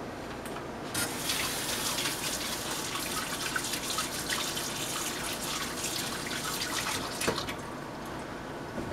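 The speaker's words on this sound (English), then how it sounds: "Let me rinse my hands." A kitchen tap gushes steadily while hands are rinsed after shaping meatloaf mixture, a loud continuous splashing rush into the sink with brief shifts in the flow.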